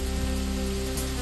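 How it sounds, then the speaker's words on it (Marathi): Heavy rain pouring in a village, a dense constant hiss of drops hitting surfaces, loud and steady with a low electrical hum beneath. "नेवरे गावात जोरदार पावसामुळे तारंबळ उडाली."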